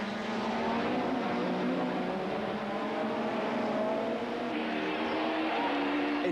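Supertouring cars racing at Killarney circuit in 1993, including a BMW 318i. Several engines drone loudly and steadily at high revs, with pitch shifts as the cars brake hard and change gear into a corner.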